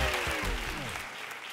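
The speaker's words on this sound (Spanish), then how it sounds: "¿Pero de qué aplaudís?" A talent show audience applauds loudly, the clapping fading over a second and a half as a low murmur of crowd voices lingers underneath.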